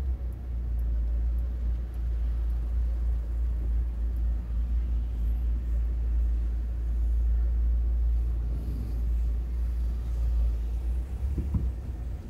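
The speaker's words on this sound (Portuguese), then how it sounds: "o movimento de carro é muito grande." Busy car traffic on an avenue in Garanhuns, Pernambuco during the Christmas festivities, a deep steady rumble of passing vehicles that swells and fades, continuous, with no talk.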